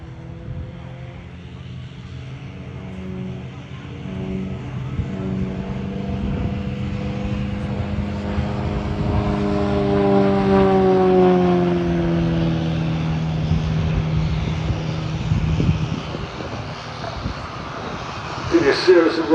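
Starlings aerobatic propeller plane with carbon fibre wings performing rolls and tumbles at Farnborough Airshow, its engine droning and shifting pitch as it climbs and dives, heard at a distance beneath a commentator's voice.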